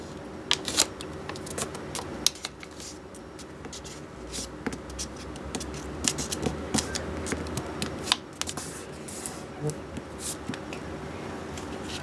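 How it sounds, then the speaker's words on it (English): Origami paper being folded and creased into a tulip, with soft crinkles, rustles and sharp little crease snaps scattered irregularly over a quiet background. "fold the left side over here to the vertical center crease like this"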